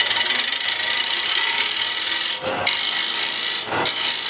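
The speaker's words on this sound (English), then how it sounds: "you raise the handle and you're always scraping at the center of the axis of the bowl" Metal scraper working the inside of a wooden bowl on a spinning lathe, a steady close, loud rasping scrape broken by two brief pauses as the tool lifts off.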